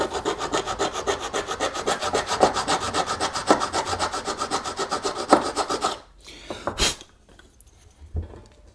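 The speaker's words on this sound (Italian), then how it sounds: "limare i fret senza stare ad impazzire con lime e limette" Metal frets on a cigar box guitar fretboard are filed with rapid, rhythmic rasping strokes, loud and close, for several seconds. The filing then stops, leaving a few scattered scrapes and knocks.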